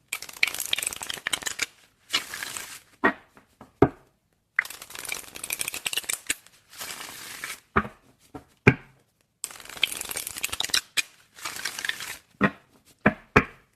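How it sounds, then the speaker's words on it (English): A tarot card deck is shuffled by hand in close, crisp bursts of riffling and flicking, several rounds separated by short pauses and soft taps as the cards are squared. "I'm going to shuffle on camera for you guys again."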